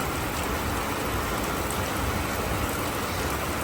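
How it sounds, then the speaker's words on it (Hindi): A sudden heavy downpour pours down in a dense, steady hiss of rain hammering on surfaces, loud and close without any break, and no one speaks. "बहुत ही ज़्यादा बारिश हो रही है"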